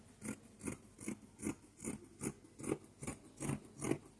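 Sharp scissors snip through slippery satin fabric being cut for an A-line skirt, about ten crisp, evenly spaced cuts in a steady rhythm, close and clear with no talking.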